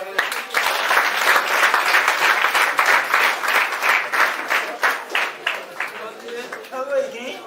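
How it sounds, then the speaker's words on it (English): An audience claps for a teacher called onto a stage at a school event in Liberia, steady clapping that grows rhythmic and then thins out toward the end. "Please clap your hands."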